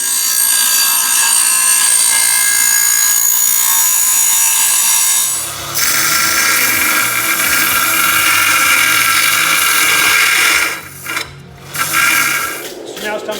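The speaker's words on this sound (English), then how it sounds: "We're going to grind that out." Power grinding on a hand-forged Dane axe head, reshaping its profile and dressing the eye, a loud continuous abrasive whine that shifts pitch partway through and briefly drops out near the end.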